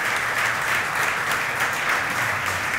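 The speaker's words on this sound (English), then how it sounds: "How about a round of applause for them?" Steady, dense applause from a brewing-industry panel audience, an even wash of many hands clapping together at full strength throughout, with no voices over it.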